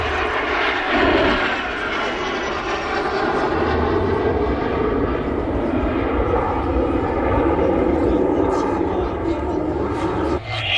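A propeller aircraft at the Le Temps des Hélices airshow drones loudly overhead, its engine tone swelling and shifting steadily as it passes, while an announcer talks over the PA.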